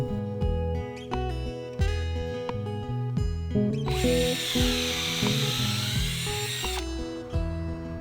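A power drill drives fasteners into a replacement wooden boat frame treated with teak sealer, close and loud, with short repeated bursts of motor whine and a longer sustained high-pitched drive in the middle.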